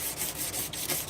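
Hand sanding of a chef knife blade with sandpaper, heard as steady, close, rhythmic abrasive strokes in quick back-and-forth succession, with no voices over it.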